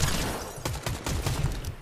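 A drum gun firing in Fortnite, rapid bursts of automatic gunfire in quick succession with brief gaps between volleys, close and fairly loud, no voices over it.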